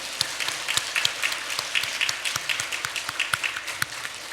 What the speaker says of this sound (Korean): 크게 박수하겠습니다.